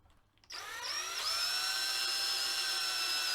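A small drill bit whines steadily as it bores a pilot hole into the body of an Epiphone Les Paul SL electric guitar, starting abruptly after a brief quiet moment and holding a loud, high, even pitch throughout.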